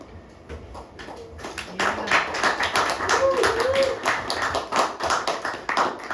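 An audience at a theatre performance claps steadily after a short lull, the dense applause close and lively and continuing to the end, with voices talking over it.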